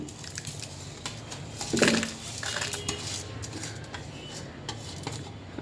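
Chana dal and dry red chillies dropped into a pan for a rice and chana dal chutney, a brief rattling clatter followed by soft scraping and light crackling, close with no speech.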